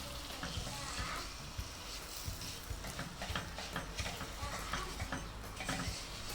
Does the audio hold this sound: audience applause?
no